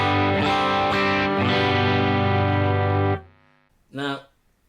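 A dry electric guitar chord rings through a UAFX amp pedal with the reverb off, sustained and loud for about three seconds before being cut short, then a brief plucked note, with no talk.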